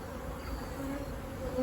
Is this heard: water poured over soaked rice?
no